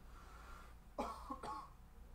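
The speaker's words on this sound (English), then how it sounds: "so taken aback he had a cough" Two short, sharp coughs close together, fairly near, over a low steady background hum.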